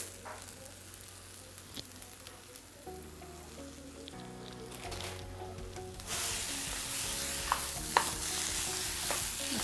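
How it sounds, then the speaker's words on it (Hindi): A sweet potato paratha filling frying in a pan, a steady close sizzle with scraping stir strokes that grows louder and hissier in the second half, with no talking. "खूब अच्छी तरह से इसे फ्राई करके तो सारी चीज़ें मिल जाए"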